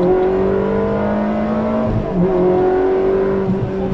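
A Ferrari accelerates hard, its engine holding a loud, steady, close-up roar with rising pitch and a brief dip near the middle before pulling on again, with no talk.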